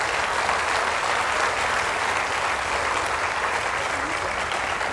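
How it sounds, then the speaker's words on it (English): Sustained audience applause at a science talk, a loud, even roar of many hands clapping that holds steady throughout without letting up. "All right, let's have a round of applause for Mary."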